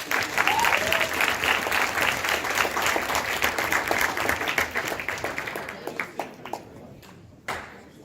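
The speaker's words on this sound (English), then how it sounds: "can you all just give everybody a round of applause?" Audience applause at a university leadership event, a crowd clapping thickly for several seconds before thinning out into scattered individual claps and fading near the end.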